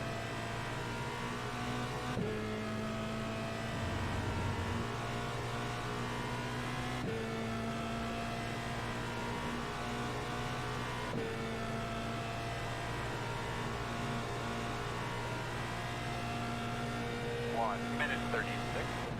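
Open-wheel road course race car in iRacing, its engine droning steadily at high revs with shifts and pitch changes throughout, a second car briefly audible near the end, with a voice talking over it.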